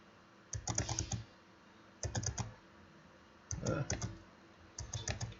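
Keys clatter on a computer keyboard in four quick bursts of typing separated by short pauses, with crisp clicks and a firmer press like Enter being struck, close and clear.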